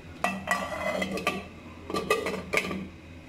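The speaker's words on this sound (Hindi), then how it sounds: "अब इसको ढक के रख देती हूँ" A lid is set onto a pot of frozen mutton mince, giving several close metallic clanks and scrapes in two short clusters, with no speech.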